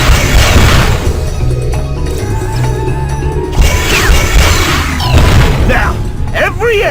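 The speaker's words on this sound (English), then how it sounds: "Try blasting these laser turrets and see what happens." Laser turrets are blasted in the Despicable Me video game, giving a run of loud crashing bursts and booms over a continuous busy game soundscape, with several sharp impacts toward the end.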